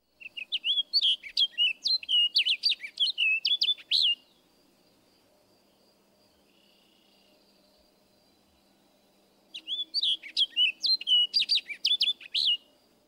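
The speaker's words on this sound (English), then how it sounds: "Our final species in this group is the orchard oriole." An orchard oriole sings two rapid, varied warbling phrases of bright chirping notes, close and clear, with a quiet pause of several seconds between them and faint insect hum behind.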